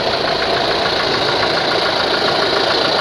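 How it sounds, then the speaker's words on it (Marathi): A 2018 Toyota Innova Crysta 2.4 G diesel engine idles just after starting, a loud, steady, close hum with a constant rumble and no pauses or talk. "गाडी चालू केल्यानंतर जो गाडीचा इंजिनचा आवाज"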